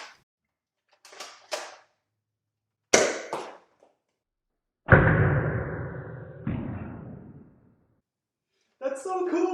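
A modified Nerf shotgun blaster is pumped and fired indoors, heard as several short sharp clacks and thumps, then a louder resonant shot that rings out and decays, with further clicks at the end.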